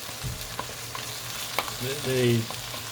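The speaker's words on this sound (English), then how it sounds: "I'm going to stir that around, get that nicely warmed for a nice bit of a stir-fried radish" Radish stir-frying in a hot pan turned up high: a steady close sizzle with scraping stir strokes and a brief low hum, no talking.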